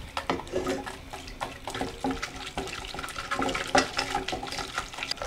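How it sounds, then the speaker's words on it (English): A whisk works a stick of unsalted butter into a little water in a pan for a butter sauce, giving a continuous wet swishing and clinking that runs steadily throughout, close and moderately loud. "Put just one stick for now. Unsalted butter. I'm going to whisk it."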